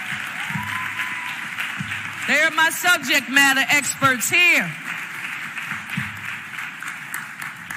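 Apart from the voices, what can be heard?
audience applause for Cheryl Hill and Crystal Yates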